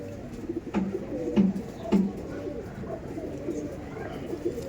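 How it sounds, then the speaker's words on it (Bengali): Punjabi Malbai pigeons coo with several low, throaty calls, three clearer ones in the first two seconds. Softer cooing and a murmur of birds follow against a steady background. "আর এইটা ছিল নর পায়রা নরটা দেখুন খুবই সুন্দর একটি মালবাই পিয়ার দেখাচ্ছিল আমাদের বিবেকদার কাছ দিয়ে"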